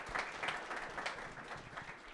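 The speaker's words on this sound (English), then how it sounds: "Just a quick round of applause for these pretty stellar panelists." An audience at an entrepreneurship panel gives the panelists a short, brisk round of applause, many hands clapping evenly at a moderate distance, with no speech over it.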